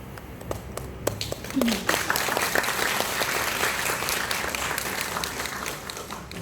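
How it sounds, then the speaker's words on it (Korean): Audience clapping at a school experience camp, a steady wash of applause that swells after a quiet start and continues evenly, with a few voices briefly audible beneath it. "박수로 이렇게 위로를 많이 줘."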